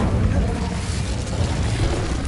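Casting Incendio, a fire spell in Hogwarts Legacy, makes a loud, sustained roaring burst of noise with heavy low rumble that stays steady for about two seconds.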